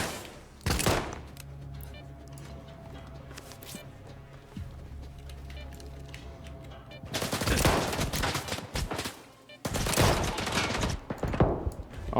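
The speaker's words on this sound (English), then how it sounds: "As soon as you pop your head around the corner, they open fire." Stalker 2: Heart of Chornobyl gunfire, with loud bursts of rapid automatic shots near the start and two dense, sustained volleys in the final five seconds, separated by a quieter stretch of low ambient hum.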